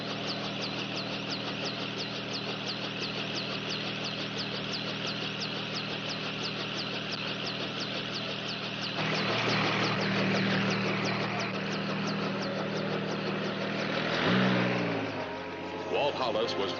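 A helicopter waits to fly from a mountain to a ranger station. Its engine drones steadily with a fast, regular rotor chop, and the sound swells and shifts partway through.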